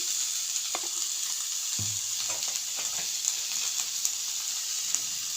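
Okra frying in a pan with turmeric, chili powder and salt gives a steady close-up sizzle, broken by occasional scraping stirs, with no talking.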